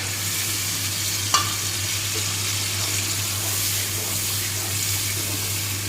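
A tomato and green chili paste fries in a pan, giving a steady hiss and sizzle throughout with a single brief clink near the start.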